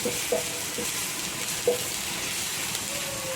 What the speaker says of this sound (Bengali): প্রথমে আমি গ্রেট করা রসুনটা দিয়ে দেবো কড়ার মধ্যে। এটা হালকাভাবে নেড়ে চেড়ে ভেজে দিচ্ছি।